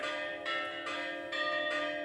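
Church bells in Astrakhan, Russia ring in a steady sustained peal with repeated strikes, faint and distant, with no voices.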